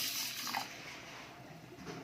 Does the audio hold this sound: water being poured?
yes